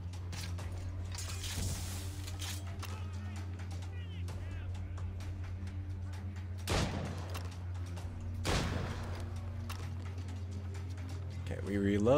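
Ship cannons fire during a naval battle in the game Assassin's Creed Rogue: several heavy booms spaced seconds apart over a steady low drone and game clatter, with a voice now and then.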